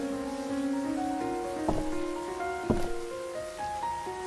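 Steady rain falling in the Raison d'etre video game, a continuous soft patter running under tonal game music with a couple of sharp clicks.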